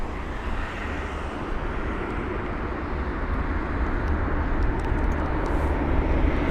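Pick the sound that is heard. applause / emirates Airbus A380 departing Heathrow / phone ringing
emirates Airbus A380 departing Heathrow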